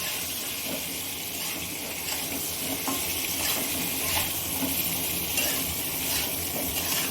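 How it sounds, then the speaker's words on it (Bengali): Pieces of pointed gourd fry in oil with salt and turmeric, making a quiet, continuous sizzle and hiss with faint stirring taps, close by and without talk. "এবারে নুন হলুদ দিয়ে পটলগুলো খুব ভালো করে তেলে ভেজে নেব।"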